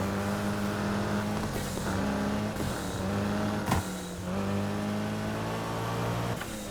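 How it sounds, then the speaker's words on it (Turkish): A steady Mitsubishi sports car engine in Need for Speed Heat drones with a low harmonic hum, shifting pitch in waves as it revs and eases, with a sharp knock partway through. "Ben de Mitsubishi'min sesini dinleyeyim madem."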